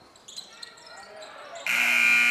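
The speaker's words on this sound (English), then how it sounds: "And there is the buzzer" An end-of-quarter buzzer at a girls JV high school basketball game blares loud and sustained after a missed free throw, cutting in sharply over faint gym noise.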